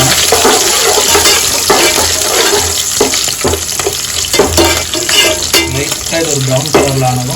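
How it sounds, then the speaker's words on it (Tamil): Garlic, ginger, dried red chillies and green chillies sizzle steadily in hot oil in a pan, a continuous loud crackle with occasional stirring scrapes and clinks. "இஞ்சி, காஞ்ச மிளகா, பச்சை மிளகா ஆட் பண்ணிவிட்டு நல்லா வதக்கி கொடுத்துக்கலாம்."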